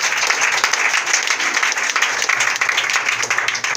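A church congregation applauding in steady, dense clapping that stays loud and even throughout, with no break.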